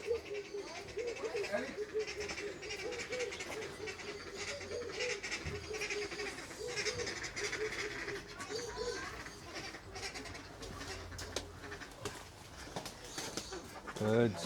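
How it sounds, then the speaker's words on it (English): Pigeons cooing in an aviary at a bird park, repeated soft low coos over steady background chatter and other bird calls, with people talking nearby. "More pigeons."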